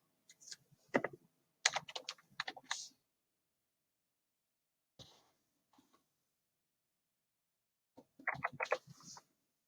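Bursts of typing and mouse clicks on a computer keyboard while browsing a real estate listing site, several quick clusters of keystrokes separated by quiet gaps, close and fairly soft.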